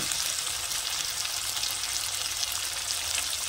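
Ginger-garlic paste sautéing in oil for a Bengali fish curry, giving an even, continuous hiss of frying throughout, moderately loud and close with no voices.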